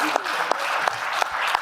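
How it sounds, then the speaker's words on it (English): A live audience applauds an NFL Super Bowl winner and longtime Saints receiver, dense clapping that runs for under two seconds. "give him a round of applause for that, guys"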